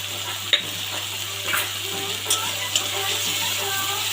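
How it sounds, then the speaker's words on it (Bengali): A poppy seed and peanut paste with chili and onion sizzles in a pan while being stirred, with a continuous frying hiss and a few sharp clinks of the spoon against the pan, close and fairly loud. "আগে ভালো করে ভেজে নিই মশলাটা"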